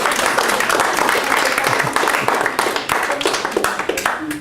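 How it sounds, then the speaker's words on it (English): Audience at a game developer day event claps for a speaker, a dense, steady wash of hand claps sustained throughout, fairly loud and close, with some murmuring mixed in. "Can we give him a big clap if that's it?"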